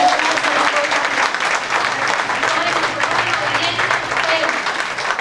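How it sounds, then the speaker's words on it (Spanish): A church congregation applauds steadily and loudly throughout, a continuous wash of clapping that stays even from start to finish. "Un aplauso para nuestro Dios."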